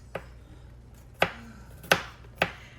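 A knife rough-chops garlic on a cutting board in a quiet kitchen, giving four sharp, distinct thuds spaced irregularly apart, with no talking.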